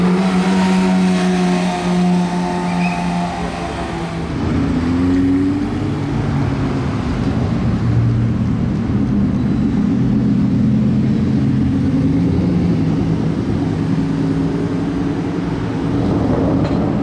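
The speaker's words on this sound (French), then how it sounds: "Oh le bruit, Aston Martin, oh ouais le bruit qu'elle fait. Aston Martin Speedster les amis." An Aston Martin Speedster's engine rumbles and rises in pitch as it pulls away during a rare-car convoy at the Monaco Grand Prix, a loud, sustained low drone that swells and shifts over several seconds.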